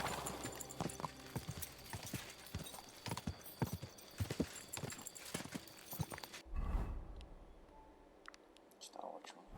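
Horse hooves clip-clop in a steady rhythm in Kingdom Come: Deliverance II, with brief spoken voices over them; the hoofbeats stop abruptly partway, leaving quieter ambience.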